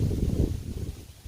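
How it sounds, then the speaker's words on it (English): Low rumbling buffeting of wind hitting the microphone outdoors at a disc golf outing, steady and loud for the whole moment, easing slightly at the end. "Sorry for the wind."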